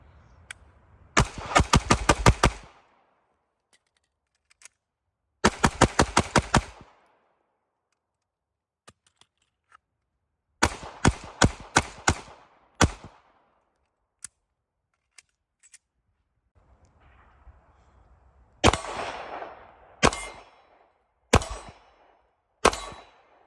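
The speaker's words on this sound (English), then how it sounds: "then you guys will see footage of it shooting" A Smith & Wesson Shield EZ Performance Center pistol fires in quick strings of sharp shots, several rapid bursts separated by pauses, recorded close and clear.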